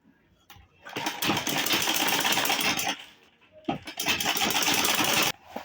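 Sewing machine stitching a fabric shopping bag, running in two loud, close bursts of rapid mechanical whirring separated by a brief pause.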